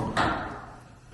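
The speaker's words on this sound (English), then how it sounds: "We have to shut the door because it's getting kind of windy" A door pulled shut on a windy day gives one brief, moderately loud thud that quickly fades into a steady rush of wind noise.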